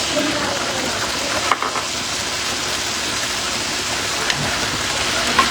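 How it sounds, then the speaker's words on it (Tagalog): Garlic, onion and tomato sautéing in a pan make a steady, hissing sizzle that runs on without a break, with a few faint clinks of stirring. "Tuluto lang natin yung bawang sibuya. Lalagay na tayo ng kamatis."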